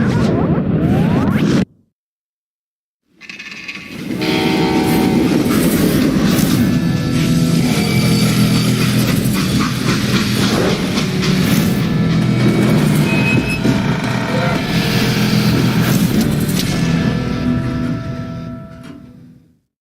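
A freight train in Call of Juarez: Gunslinger runs loud and continuous, a dense roaring rumble with rattling and metallic screeches, after a brief burst of sound that cuts to silence.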